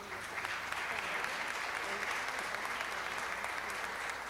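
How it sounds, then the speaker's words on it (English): Audience applause at a Los Angeles city council meeting, a steady, dense clapping that holds at even loudness throughout with a faint murmur of voices beneath. "ask that you join me in giving him a great round of applause"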